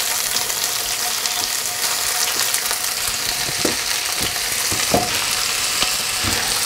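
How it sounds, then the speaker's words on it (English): Morel mushrooms frying gently in butter in a pan, a steady close sizzle with occasional soft stirring clicks and scrapes. "So for the mushrooms, I'm just going to cook them in a little bit of butter."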